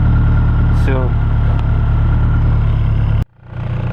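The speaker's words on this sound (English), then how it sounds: "Car's warming up, so it should be idling fine soon" A car engine runs at a low, steady idle with a continuous hum, loud and close, then cuts abruptly near the end before rumbling back.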